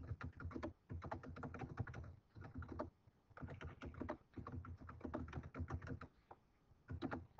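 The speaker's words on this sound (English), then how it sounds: "I'm going to be able to type in some type of open-ended question." Computer keyboard typing, quick bursts of light key taps separated by short pauses, fairly faint and close, with no talk.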